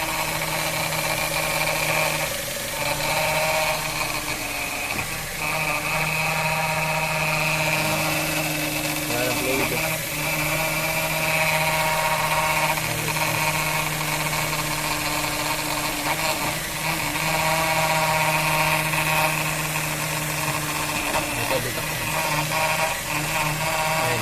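A car engine runs with a leaking power steering pressure hose, giving a steady humming drone. The close, continuous tonal hum holds at a constant level throughout, with only slight wavering.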